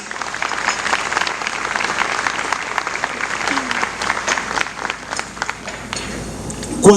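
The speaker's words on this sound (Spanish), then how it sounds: "Dale un aplauso al Rey." A church congregation applauds during a sermon, dense clapping from a large crowd filling the space steadily with a few shouts and voices mixed in, tapering slightly near the end.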